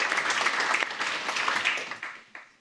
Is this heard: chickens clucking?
no